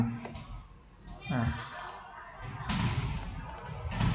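Computer mouse clicks during software setup on a computer: a few light, quick clicks up close, heard under a man's speech.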